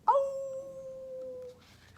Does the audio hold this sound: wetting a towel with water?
no